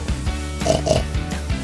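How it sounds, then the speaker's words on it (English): A pig grunts and oinks in a short series of snorty calls, close and fairly clear, with no speech. "Pig."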